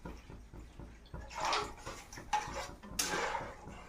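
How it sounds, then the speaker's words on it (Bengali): Water is poured into a pan of fried curry gravy spices, giving a few short splashing gushes over a quiet ticking background, close and with no talk. "তো এবার আমরা পরিমাণ মতন জল ঢেলে দেবো, যতটা গ্রেভিতে দরকার আমাদের।"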